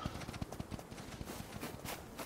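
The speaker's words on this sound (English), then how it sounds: "Fucking horse making too much damn noise." Horse hooves clip-clop in the Rust video game, a quick run of close, distinct hoof knocks in an uneven trotting rhythm, heard alone and fairly loud.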